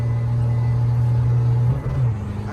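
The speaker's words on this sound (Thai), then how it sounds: "เกียร์ว่างเบิ้ลไม่ตัดนะครับอันนี้" A remapped car fitted with a tuned Project4-style exhaust revs in neutral, holding a loud, steady droning note before the pitch dips and wavers near the end.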